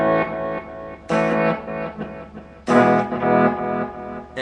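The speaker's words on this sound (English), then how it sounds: "It actually reverses your play on an E, so it sounds like a backwards played E." Reverse delay effect on a Zoom R8 guitar, with backwards-played E notes and chords that swell up and cut off in several loud surges, alone without talk.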